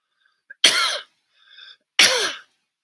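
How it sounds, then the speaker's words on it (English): Two sharp, harsh coughs close up, separated by a brief pause with a faint throaty sound between them. "I'm coughing because"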